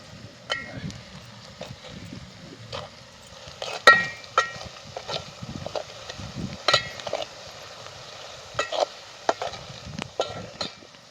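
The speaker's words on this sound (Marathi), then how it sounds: "आता कांदा चांगला तळून घेतला त्यात हळद टाकली आणि जरा त्याच्यात मसाला टाकून घेणार आहे" Onion with turmeric and masala is fried in a pan, heard mostly as irregular spatula scrapes and taps over a soft, quiet sizzle, with sparse gaps between strokes.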